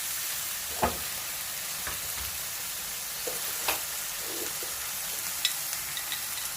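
Mixed vegetables stir-fry in a pan as packet sauce is added for spicy Korean noodles, a steady soft sizzle with a few sharp clacks of a utensil against the pan, close and alone without talk.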